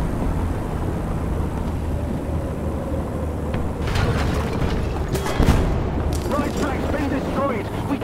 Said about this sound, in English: All sorts of artillery dropping on Charlie.